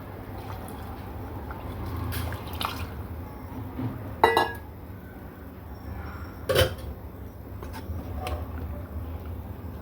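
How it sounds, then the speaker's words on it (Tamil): Rice for chicken biryani stirred inside a pressure cooker, two clear metallic scrapes and clanks of the spoon against the pot standing out from a faint, steady background. "அரிசி உடையாமல் கிளறி விட்டுடலாம்."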